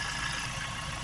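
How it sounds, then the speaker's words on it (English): A Ford Transit 2.0 MK8 van engine idles steadily while warming up to temperature, with a low, even rumble, close by and constant. "Just got to run the engine up to temperature now."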